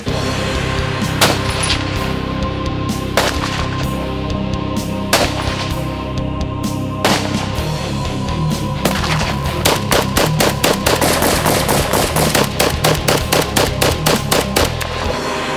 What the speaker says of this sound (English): We had a whole selection of different rifles, different pistols, different shotguns.